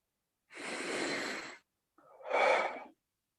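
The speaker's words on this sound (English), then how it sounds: "Take a deep breath." A deep breath taken alone and close: a long, forceful inhale followed after a short pause by a strong exhale, clear and loud with no talking.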